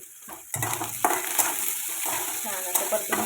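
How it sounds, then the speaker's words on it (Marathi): A spatula scrapes and stirs sliced onions with salt in a hot pan, a close sizzle with clattering strokes against the metal and a faint steady high whine behind it. "छान असं परतून घेते आता आणि 1-2 मिनिटं कांदा शिजू देते."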